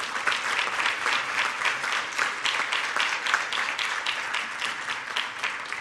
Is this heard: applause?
yes